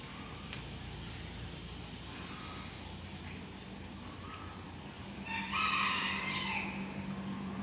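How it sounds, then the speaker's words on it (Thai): A rooster crows once, fairly distant, after several quiet seconds of faint outdoor ambience at a riverside resort in Amphawa, Thailand. "เสียงไก่ขันครับ"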